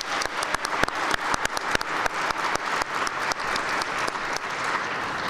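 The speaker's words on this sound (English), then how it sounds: "Let's give them a round of applause already" An audience at an awards luncheon applauding, a dense steady patter of many hands clapping at close range throughout, with no talk over it.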